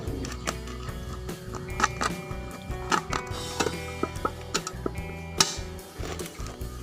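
A hand saw cuts between two drilled holes while a DIY spiral potato cutter is made, giving irregular sharp rasping strokes and clicks, close and moderately quiet.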